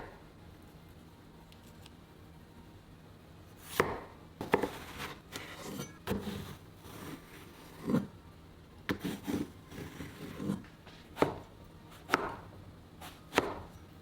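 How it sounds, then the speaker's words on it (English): A knife chops eggplant repeatedly against a cutting board, cutting it lengthwise into quarters, sharp irregular strokes close by with short pauses between them, and no voices. "Cut the eggplants into quarters lengthwise."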